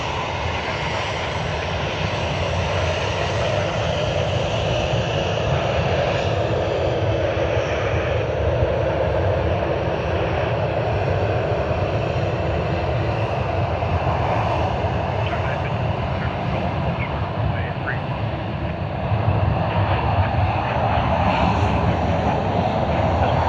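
Airliner jet engines spooling at high takeoff thrust at Sydney Airport in wind, a steady broadband roar that swells slightly near the end, heard from a distance with a voice talking over it.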